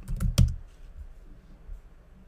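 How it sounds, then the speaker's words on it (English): A few quick, close keystrokes on a computer keyboard, a short burst of typing followed by a couple of faint isolated taps in a quiet room. "type in BAW, Login, log out."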